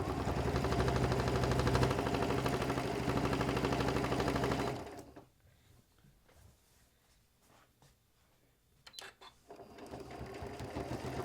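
A Janome sewing machine top-stitches through a quilted quillow, a fast even whirring hum for about five seconds, then a pause with small handling clicks before the motor starts up again.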